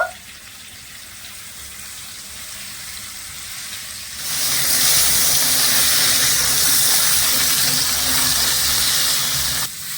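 Potato and soybean chunks frying in a pan for a vegetarian biryani: a quiet start gives way to a sudden, loud, steady sizzle that hisses evenly for several seconds before easing slightly at the end.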